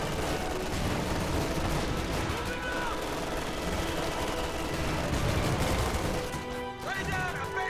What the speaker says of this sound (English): As usual, those Oster mortars are doing work this game.